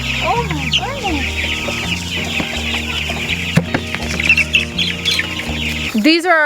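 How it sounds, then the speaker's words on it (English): Meat chickens crowd a brooder, clucking and calling constantly at close range, with busy overlapping chirps and clucks throughout and a few louder squawks near the end. "These are our last round of meat birds."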